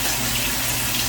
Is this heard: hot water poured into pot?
yes